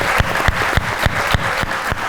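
Audience applause at a televised Pakistani talk show, steady dense clapping with sharp rhythmic peaks roughly every quarter second, loud and close, with no talk over it.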